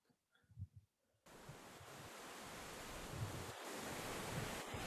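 Ocean waves churn in a violent maelstrom storm at sea, a steady roaring surf sound effect that starts abruptly after a brief quiet moment and holds loud and continuous, swelling slightly toward the end.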